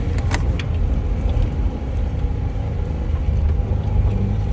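A car rolls downhill in low gear on a windy mountain road, a steady close engine and road rumble running without a break and with no voices.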